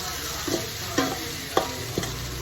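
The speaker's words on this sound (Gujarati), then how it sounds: "હવે આપણે જે મુઠિયા સમાર્યા છે એ આપણે વઘારી દઈશું" Chopped spinach muthiya go into hot tempering oil flavoured with asafoetida, where they sizzle and fry. About four distinct clinks of stirring or tossing sound over the steady hiss, and no one speaks.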